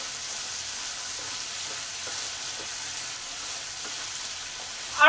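Potatoes with salt and turmeric fry in a pan, a steady soft sizzling hiss throughout with faint stirring scrapes and a louder clatter at the very end, no talking.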